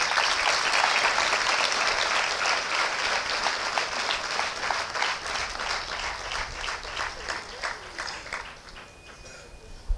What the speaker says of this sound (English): with a round of applause for him.